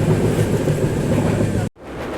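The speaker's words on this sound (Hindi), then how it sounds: "फिलहाल सामने से क्रॉस हो रही है एपी एक्सप्रेस, विशाखापट्टनम नई दिल्ली एपी एक्सप्रेस।" A passing AP Express, the Visakhapatnam–New Delhi train, roars past close by with a dense, steady rumble and rattle of coaches that cuts off abruptly near the end, leaving a quieter background.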